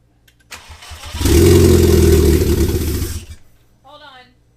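A car engine cranks and catches after sitting for over a year, roaring to a loud close rev for about two seconds before cutting out, followed by a brief voice.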